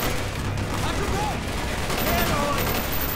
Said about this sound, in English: Stand by for strafing run.